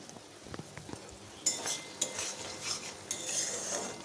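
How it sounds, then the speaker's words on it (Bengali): Spices being sautéed in a pan for rohu fish curry, with a spoon scraping and clinking against the pan in bursts over a low sizzle. "মশলা কষানো হচ্ছে মশলা থেকে জল বেরিয়ে গেছে"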